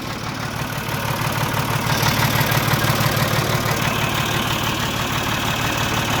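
A Ford 2600 tractor engine idling after its first start in years, a loud, close, steady low chugging with a rapid uneven knock, running alone without talk.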